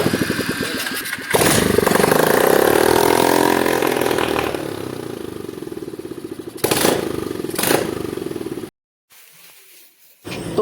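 An engine fixed with a makeshift carburetor repair runs loud and close, revving up then settling into a rough idle with a few sharp bursts before cutting out and restarting.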